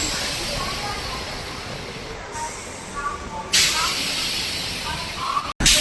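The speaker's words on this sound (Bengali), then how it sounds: "এই মুহূর্তে আমাদের ট্রেন প্রবেশ করছে তার প্রথম হল্ট বিধাননগর রোড রেলওয়ে" A Sealdah–Barasat local train rolls into Bidhannagar Road station, heard from inside as a steady, loud hissing rumble with a sharp burst of noise midway, while someone talks over it.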